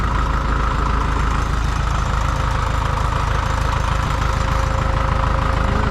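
A Farmall MD tractor with a 3-point hitch and PTO idles steadily just after startup, its engine chugging loud, close and unbroken throughout with no talk.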